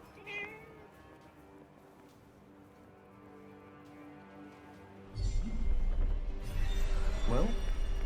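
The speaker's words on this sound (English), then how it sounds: "A cat." A cat meows in the game Forspoken, a short faint mew early on and a clearer rising meow near the end, under a louder rumbling scene.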